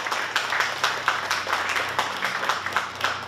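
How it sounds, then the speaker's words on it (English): An audience claps continuously through a community meeting at a volunteer fire department, a dense, fairly distant patter of many hands that keeps an even level for the whole stretch, with no voices over it. "I think we ought to give ourselves a round of applause."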